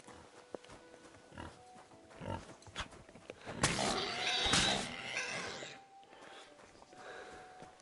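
A pig grunts and snorts in the medieval video game Kingdom Come: Deliverance 2, a cluster of rough snorts peaking midway over faint ambient game sound.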